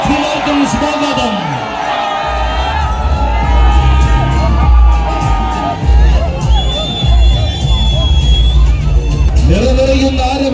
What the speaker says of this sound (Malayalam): നിറനിറയുന്ന ആരവങ്ങൾക്ക് നടുവിൽ ആണുങ്ങളുടെ ആവേശം നിറയുമ്പോൾ ഇതാ വരികയാണവനും. ബ്രാഹ്മണി വീട്ടിൽ ഗോവിന്ദൻ കുട്ടിയും